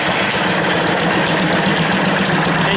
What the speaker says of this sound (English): Engine's running good.